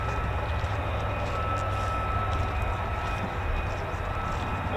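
Steady broadband jet roar from an F-15 or F-35 fighter taxiing back at RAF Lakenheath, continuous and fairly loud at moderate distance with a faint whine on top, no speech.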